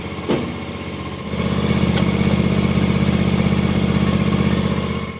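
A tractor engine runs with the power take-off engaged to drive a snowblower. A short clunk comes first, then a loud, steady mid-low mechanical drone holds for the rest of the clip.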